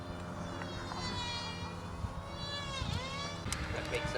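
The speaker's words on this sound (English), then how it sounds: "you can hear the RC planes in the background" A thin, steady engine whine drifts in the distance, rising and falling in pitch as radio-controlled model planes circle over an RC flying field, with some faint talk nearby.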